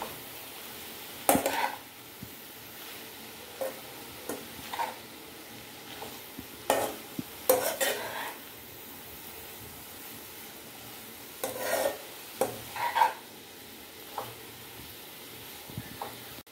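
A spoon stirs vegetable sabzi with salt in a pan, giving scattered scraping and clinking strokes over a faint low sizzle, close and fairly quiet with pauses between strokes.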